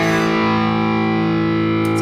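A heavily distorted electric guitar rings out with a sustained, thick chord. It plays loud and close, with no talking.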